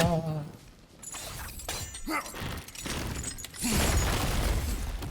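An object shatters when broken in the video game God of War Ragnarok, a burst of crashing and breaking debris over game sound effects, loud and fairly close, lasting several seconds.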